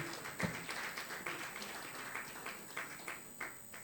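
Faint, distant applause from an award ceremony audience, scattered hand claps pulsing unevenly as someone comes forward to collect a plaque.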